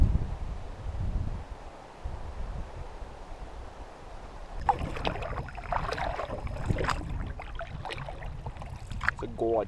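Canoe paddling on calm wilderness water, with soft splashes and paddle strokes rising after a quiet windy start, irregular dips and drips close by, while a voice speaks intermittently over it.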